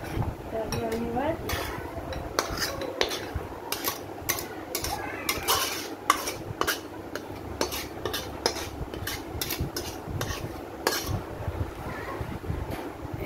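Okra and chicken-egg curry being tipped and spooned from the pan into a serving bowl, with close metallic scrapes and light clinks of the utensil against cookware over a soft, steady kitchen background.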